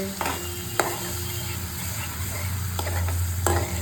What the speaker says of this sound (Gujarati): લસણ બળે નહીં એના માટે આપણે ફટાફટ ટમેટા એડ કરી દેવાના છે.